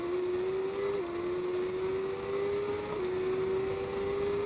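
A motorcycle engine in TT Isle of Man 2 holds a steady, smooth high-pitched drone, nudging up in revs with a couple of brief shifts, loud and continuous with no talk over it.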